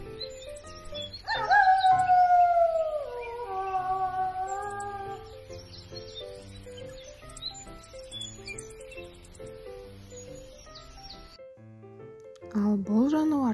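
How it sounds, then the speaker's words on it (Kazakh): A wolf gives one long howl that slides slowly downward, set against a soft rhythmic backing with a voice speaking briefly near the end. "бұл ең қауіпті жануарлардың бірі қасқыр"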